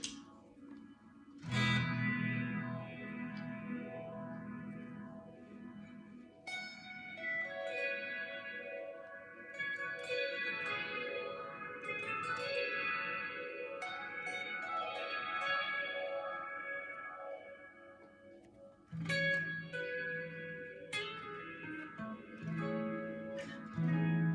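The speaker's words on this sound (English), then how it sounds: "I've got a phaser" A phaser blended through a Signal Cheyne Sirius parallel effects mixer, with sweeping, swirling tones over a sustained synth or guitar texture, alongside reverb and a Leonid's distortion, loud and continuous with a sharp re-attack near the end.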